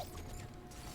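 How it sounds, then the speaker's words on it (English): Gun reload in a first-person shooter, a P90 submachine gun: a brief mechanical clack and ratcheting click of the magazine and action, close and fairly steady over a low hum of game background, with no talking. "Oh, I forgot to reload."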